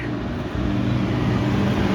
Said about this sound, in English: There's a tractor, and all the cars stuck behind the tractor.